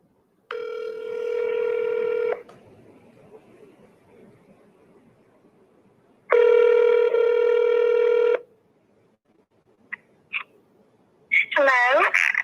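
An outgoing phone call: two long, steady ringback tones a few seconds apart, loud and close, then quiet, followed by brief chirps and a voice answering at the end.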